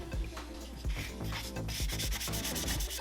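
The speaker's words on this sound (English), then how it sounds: "I'll take the sanding pad and go over the entire body, removing any mold lines and any sharp edges" A sanding pad rubbed over a plastic model NASCAR car body, a close scratchy back-and-forth rasping in quick uneven strokes, steady and moderately loud with no voices.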